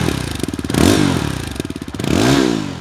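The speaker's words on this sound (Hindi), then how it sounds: "ये सब बातें कर ली हैं तो एग्जॉस्ट नोट सुनना बनता है।" Yezdi Adventure motorcycle revving hard twice, each throttle blip rising to a loud, rasping exhaust roar before dropping back to a lumpy, pulsing idle, close and with no talk.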